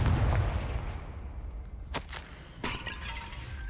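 Confringo blasting curse cast in Hogwarts Legacy: a sharp explosive crack followed by a second shattering burst, both bright and brief, trailing off over a low rumbling background.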